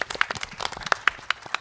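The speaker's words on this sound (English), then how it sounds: "Let's give him a round of applause" A short burst of applause, scattered hand claps from a small audience at an autism family forum, brief and moderately loud.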